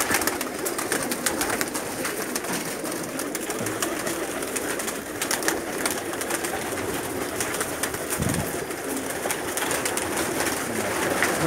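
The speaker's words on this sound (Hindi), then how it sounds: "अभी मैं यासीन भाई के कुछ मिक्स ब्रीड के कबूतर दिखा रहा हूं" Mixed-breed pigeons coo in a loft, their low soft calls mixed into a steady background hiss and wash of ambient noise, with no talk.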